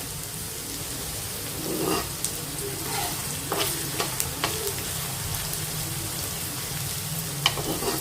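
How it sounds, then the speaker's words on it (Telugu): Pieces of crab frying in oil for a crab curry, a steady close sizzle with stirring scrapes and small crackles running throughout, no talking. "చక్కగా దోరగా బాగా వేపాలండి, నూనె తేలే వరకు చక్కగా ముక్క వేపుకోవాలి."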